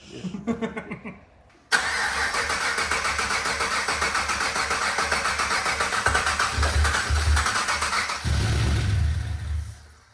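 A supercharged LS engine swapped into a Nissan Patrol cranks and fires on its first start, then settles into a loud, steady rumbling idle up close with a slight change in tone near the end.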